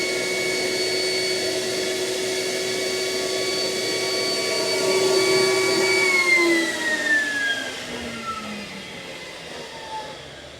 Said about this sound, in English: we're starting to pump it out. This is running about 60 gallons per minute.